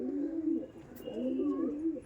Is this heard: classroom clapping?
no